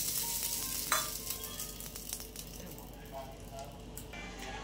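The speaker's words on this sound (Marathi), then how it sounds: "मग अंड टाकायचे त्याच्यावर, अंड पण पसरवून घ्यायचंय।" An egg sizzling as it fries on an oiled flatbread in a pan, a steady soft crackle with light stirring and scraping, and a voice talking quietly over it.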